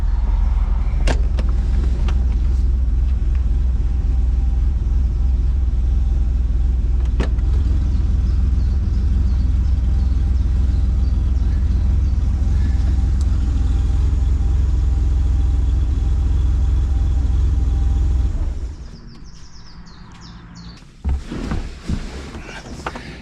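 A car engine with a misfire, running with its airflow sensor disconnected, drones steadily and loudly up close for about eighteen seconds, then cuts out, leaving quiet with a few faint knocks.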